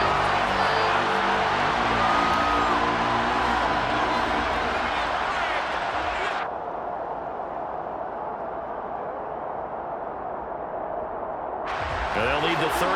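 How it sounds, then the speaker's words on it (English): A stadium crowd in Madden NFL 23 roars and shouts during a football replay, a dense, loud, continuous wash of noise that briefly thins and dips before swelling again, with a commentator's voice over it. "The shouts from this crowd as they watch the replay"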